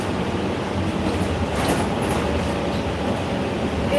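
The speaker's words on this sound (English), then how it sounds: "Dang, I love being on that train." A commuter train rumbles steadily in a low, continuous roar with faint wheel-on-track noise, heard close from on board, with no voices over it.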